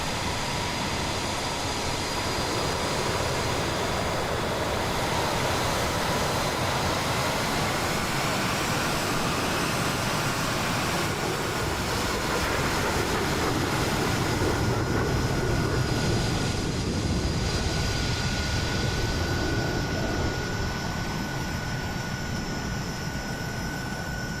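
Jet fighters roar past in Microsoft Flight Simulator 2020 alongside a Hawker Hunter T7, giving a dense, continuous engine rush that holds steady and loud, with faint whining tones drifting through it.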